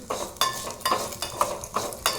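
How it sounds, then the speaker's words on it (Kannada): Vermicelli is stirred and fried in ghee in a pan, with rhythmic scraping strokes about twice a second over a soft sizzle. "ಶಾವಿಗೆಯನ್ನು ಚೆನ್ನಾಗಿ ಕಲಕಿ ಅದು ಕೆಂಪಗೆ ಆಗುವವರೆಗೂ ಹುರಿದುಕೊಂಡು"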